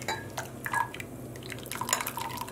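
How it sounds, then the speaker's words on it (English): Near-boiling water is poured onto a spoon in a cup, giving close, light splashing and dripping with small metallic clinks and taps scattered irregularly at a fairly quiet level. "now I'm going to add some near boiling water"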